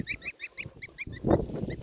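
Several high, peeping calls from Legart goslings in a quick irregular series, close by, with soft rustling and handling noise underneath.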